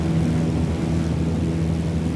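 A propeller airplane engine runs at high power in Microsoft Flight Simulator, giving a steady, loud droning hum with a constant low tone throughout, no voices.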